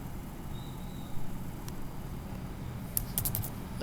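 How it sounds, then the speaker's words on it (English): Soft, sparse keystrokes on a computer keyboard, a few isolated taps, then a quick cluster of clicks near the end over a faint room hum. "I'll copy here and just type here in the chat"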